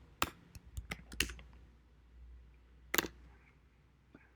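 Quiet keyboard typing on a computer during a programming session, a few quick bursts of key clicks, then a pause and another short cluster of taps, close and soft.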